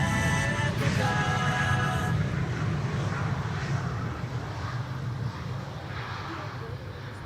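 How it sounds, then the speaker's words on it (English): A KLM airliner, flight 744 returning from Lima, lands on runway 18R at Schiphol with a loud, steady jet roar that slowly eases as it passes. "KLM flight 744 returning from Lima in Peru"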